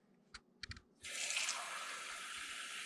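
Water runs from a tap into a pot of pasta sauce in a home kitchen, a steady broadband rush starting about a second in and continuing to the end, preceded by a few soft clinks.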